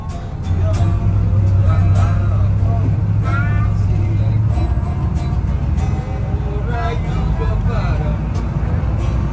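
Diesel bus engine idling inside the Sumber Group bus garage at night, a steady low rumble with a droning hum, heard close under people talking and background chatter.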